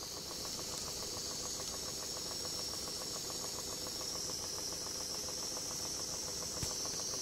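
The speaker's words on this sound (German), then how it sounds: "Die Drehzahl wird verringert, damit die Maschine weiter läuft und der Kesseldruck wieder ansteigen kann." A Regner live steam engine, fired from a Maxi boiler with a ceramic burner, runs at reduced speed, giving a steady, fast mechanical chuffing and rattling beat that carries on evenly throughout with no talking.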